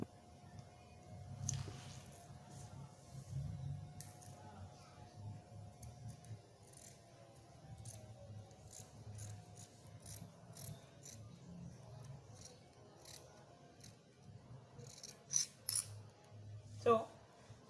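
Scissors snip through fabric while a kaftan is cut out, a steady series of close, crisp cuts and clicks over low room noise, with a few sharper snips near the end.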